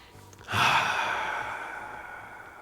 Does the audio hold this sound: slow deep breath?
yes